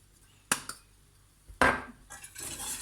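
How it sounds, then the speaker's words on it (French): A utensil knocks against a bowl while sugar is stirred into a brioche dough mixture: two sharp clinks, a louder scrape, then steady soft mixing noise, close and without talk. "On mélange."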